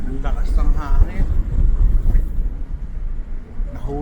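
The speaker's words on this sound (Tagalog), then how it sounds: "ang lakas ng hangin." Strong wind buffets the microphone on a boat in Milford Sound, Fiordland National Park, a loud continuous rumble under a person talking.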